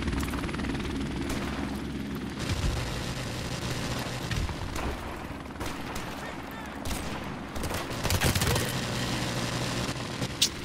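An enemy helicopter in Call of Duty: Modern Warfare Remastered gives a continuous rotor drone under dense game gunfire, sharp bursts and booms, with loud crackling peaks throughout.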